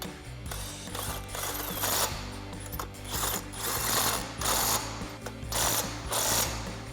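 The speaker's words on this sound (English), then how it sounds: "grab a thin wall 21 millimeter socket on your impact. We're going to tighten these down exactly how you would a wheel in a star pattern." An impact wrench with a thin-wall 21 mm socket tightens the lug nuts on 2-inch 8-lug wheel spacers on a Ford F-250 in a star pattern. Rapid mechanical hammering comes in repeated close bursts.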